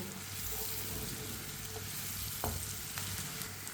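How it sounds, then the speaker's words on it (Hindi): Chopped onion sizzles and fries over a medium flame while a spoon stirs it, giving a steady close crackle with a few light scraping knocks. "इसी तरह चम्मच चलाते हुए प्याज को पकाना है।"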